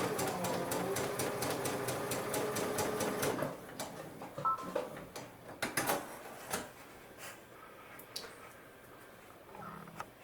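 A sewing machine stitches fabric for a pieced table runner in a fast, even mechanical run of needle strokes. It then stops, leaving quieter clicks and handling of cloth.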